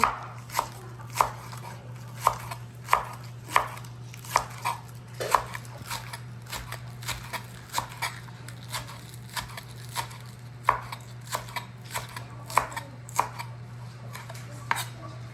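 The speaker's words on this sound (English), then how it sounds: "it's just gonna be like a rough, really rough chop. I'm just gonna do it at a diagonal" A knife roughly chops food on a cutting board at a diagonal, a steady series of sharp knocks spread across the clip over a constant low hum, with no talking.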